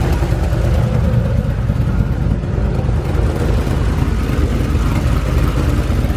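A cammed Ford Mustang engine idles steadily and loudly up close, a continuous low rumbling drone throughout.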